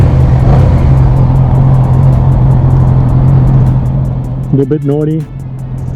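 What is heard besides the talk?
2013 Yamaha R6 motorcycle engine on first ride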